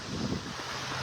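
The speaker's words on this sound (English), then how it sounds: "hearing the waves, little waves lapping on the shore" Small waves lap softly on the sand at Vanderbilt Beach in North Naples, Florida, a steady close wash blended with wind noise and no voices.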